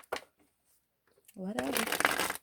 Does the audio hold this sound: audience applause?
no